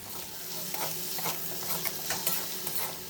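Chopped onion fries in a pan with garlic paste and ginger paste, giving a dense, continuous sizzle broken by soft scraping stirs, close and without talk.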